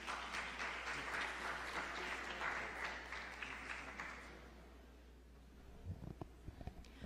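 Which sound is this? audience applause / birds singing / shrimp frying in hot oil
audience applause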